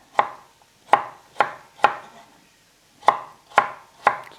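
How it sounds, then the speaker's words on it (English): A knife chops unpeeled carrots into half-centimetre slices on a cutting board for seafood stock: seven loud, close, evenly spaced thuds with a short pause partway through and no talking. "Now for the carrot, just cut them in half."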